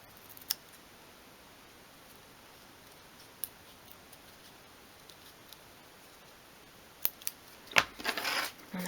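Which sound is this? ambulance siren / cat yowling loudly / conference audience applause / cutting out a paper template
cutting out a paper template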